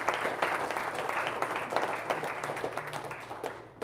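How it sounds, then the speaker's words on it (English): A crowd applauds in tribute to Aretha Franklin, a steady wash of many hands clapping at moderate loudness for a few seconds, with no voices over it. "Let's give her a round of applause for all she's given to us."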